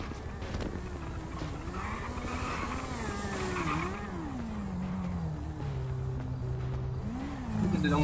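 A motorcycle engine revs repeatedly, its pitch rising and falling in swells over a steady, loud running drone, close by and with no talk over it.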